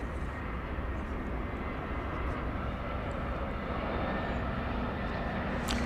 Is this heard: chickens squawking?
no